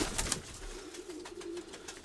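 Young pigeon pairs in a loft coo softly with low, rolling calls, close by over a faint background of rustling and light knocks.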